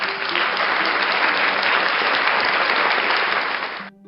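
A crowd applauds loudly and continuously, a dense clatter of many hands that holds steady for about four seconds before cutting off abruptly.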